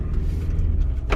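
A Ford Endeavour 2020 BS6 with a 10-speed gearbox revs as the throttle is blipped, giving a steady low engine hum close by with a brief brighter surge near the end and no talking.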